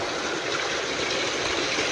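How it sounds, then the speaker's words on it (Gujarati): Irrigation water rushes steadily from an opened valve into a lucerne field on a village farm, a constant close hiss of flowing water with no talking. "આ બાજુ વાલે પાણી આપણે ચાલુ કરી દીધું છે, રજકામાં જાય"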